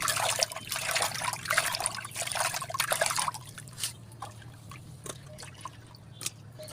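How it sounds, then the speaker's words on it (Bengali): Water splashing and trickling in a clay pot as raw fish is rinsed, a close, busy wash for the first three seconds that thins to scattered drips and small splashes. "মাছটা ধুয়ে নিব"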